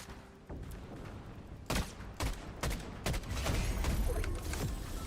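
Gunfire in Fortnite Zero Build, a string of sharp close shots in uneven bursts over a steady game backdrop, moderately loud with no talk.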